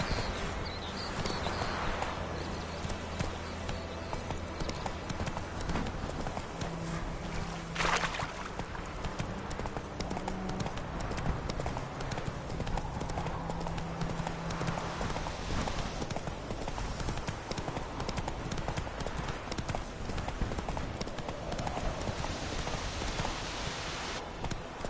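Clip-clop of the horse Roach's hooves in a video game, a steady rhythmic trot running throughout over background music and ambient game sound.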